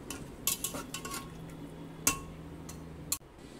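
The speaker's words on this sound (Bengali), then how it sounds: "জলটা দিয়েও আমি ভালো করে মিশিয়ে নিলাম" A spoon stirs chana dal and water in a pot, with soft scraping and a few sharp clinks against the metal at intervals, close and fairly quiet.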